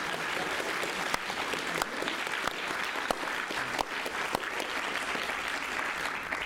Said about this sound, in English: Please do a round of applause to make this look showbiz.